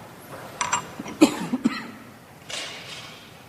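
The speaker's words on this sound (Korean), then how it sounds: "제가 지금 기침이 상당히 심해서" A preacher coughs during a church youth service, several short harsh coughs in quick succession followed by a softer throat-clearing rasp.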